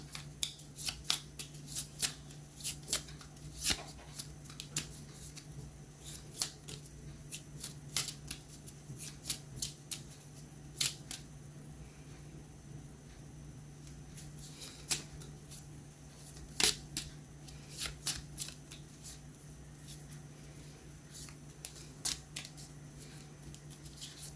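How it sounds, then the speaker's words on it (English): Small playing cards being shuffled by hand, a close series of crisp riffling bursts and flicks repeating irregularly over a quiet room hum, with no talking. "These small cards are sometimes difficult to shuffle"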